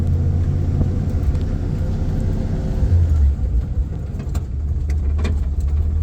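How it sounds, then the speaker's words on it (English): A 1962 Ford Econoline van drives along a road with a steady low engine rumble and road noise, a brief swell around the shift into second gear, all close and continuous without talk. "See that second gear shift?"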